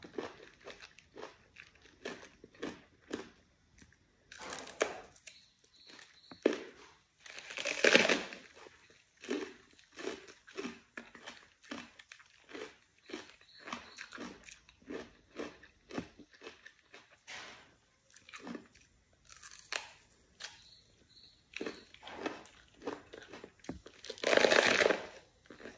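Raw ox-heart cabbage being chewed close up in a quiet room, with faint, irregular crunching bites and a few louder crisp crunches.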